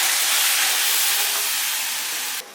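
Water poured into a hot wok of stir-fried diced meat bursts into a loud, close steam hiss that slowly fades over a couple of seconds before cutting off.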